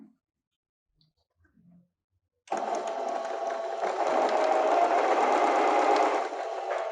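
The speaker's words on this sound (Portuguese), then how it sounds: "Ó, vou passar uma costurinha." A sewing machine joins two fabrics into a French seam, starting after a short quiet pause and then running as one steady, close, even whir of stitching for several seconds with no talk.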